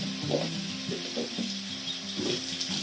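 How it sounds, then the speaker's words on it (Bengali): Steady hiss of potatoes frying in hot oil, fairly close, with a few soft stirring clinks over a continuous sizzle. "এর মধ্যে আমি কেটে রাখা আলু এক একটা করে ছেড়ে দেবো"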